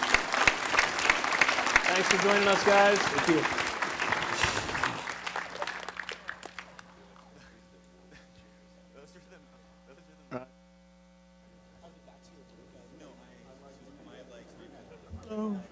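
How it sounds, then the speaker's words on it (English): Applause for panelists at the close of a virtual reality conference session, a dense burst of clapping for about five seconds that fades into a quiet room with a steady electrical hum, while a voice speaks over it. "Let's give our panelists a round of applause here"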